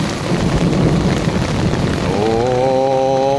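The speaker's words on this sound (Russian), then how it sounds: "Усиление дождя пошло." Heavy rain pours down in a dense, steady roar, with a faint tonal hum emerging near the end.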